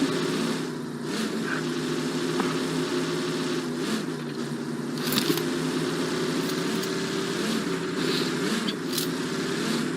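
A vehicle in a battle royale video game pulls away, its engine a steady low drone with a faint scraping texture, moderately loud and continuous with no talking.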